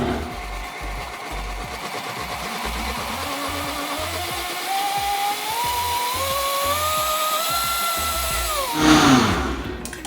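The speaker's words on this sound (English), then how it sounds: "We're gonna blend that. It's gonna get loud." A blender motor whirs through hot pan-cooked vegetables, Hatch green chiles and cilantro at low speed, its whine steadily climbing in pitch over a throbbing low pulse, then surging briefly louder near the end.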